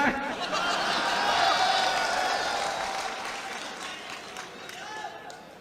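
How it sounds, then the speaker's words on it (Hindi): Applause from an audience at a poetry recital, a steady wash of clapping that swells and then gradually fades, with some voices and light chuckling mixed in. "ताली बजा दो जाइए साहब के लिए।"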